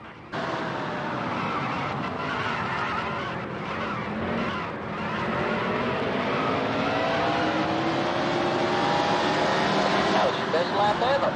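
A race car engine in a racing video game screams steadily through high revs, with the pitch climbing as it accelerates and shifts. A voice talks over it throughout.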